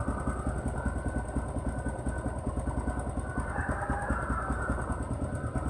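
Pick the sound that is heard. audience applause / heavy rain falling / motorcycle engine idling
motorcycle engine idling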